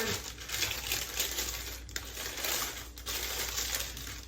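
Parchment paper being handled and lined evenly into a bread pan for a two-ingredient loaf, giving steady close crinkling and crumpling rustles with a few sharper crackles throughout.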